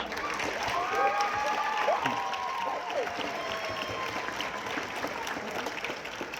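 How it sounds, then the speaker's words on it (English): Audience applause for a student brass sextet at a high school band concert, a steady wash of clapping throughout with some voices and cheering mixed in. "Now we're going to have a round of applause for our brass sextet at the performance."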